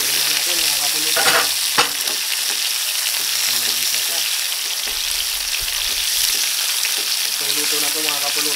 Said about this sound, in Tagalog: lalagay na natin yung sibuyas, bawang, at sili